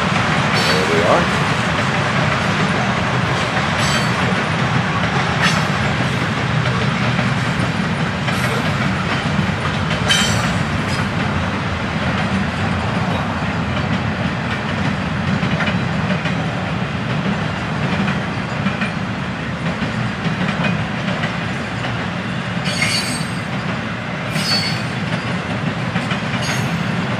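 FEC intermodal freight train carrying Crowley containers rolling past, a continuous loud rumble of wheels on rail with occasional clicks and faint squeals, close and sustained throughout.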